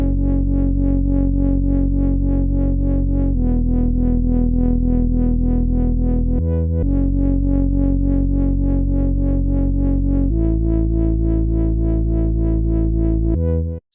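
Synthesized speed garage bass line, a thick distorted sustained tone stepping between a few held notes, with a brief pitched-up note near the end, loud and alone.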